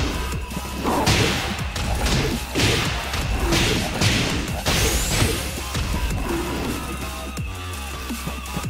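Tekken 7 match between Devil Jin and Armor King: a rapid barrage of punchy hits, thuds, whooshes and crashing impacts, loud and continuous over background game music.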